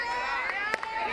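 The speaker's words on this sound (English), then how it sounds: "Good crowd developing out here in Clemson today." A crowd gathers at a Maryland vs. Clemson college softball game at Clemson in 2020. Distant chatter and faint shouts form a steady murmur beneath a commentator's voice.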